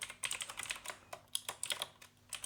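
Keys tapped on a computer keyboard as a command is entered, a quick irregular run of light clicks, close but quiet, with no voice.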